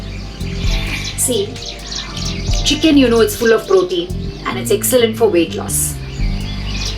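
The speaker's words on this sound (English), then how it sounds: "I can hear the birds chirping." Birds chirp and tweet on an open hilltop away from the city, with scattered high calls heard beneath a person talking close by.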